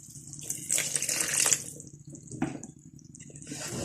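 Water is poured onto frying masala in a pan while cooking daal chana, making splashing, bubbling bursts close by, with no talk.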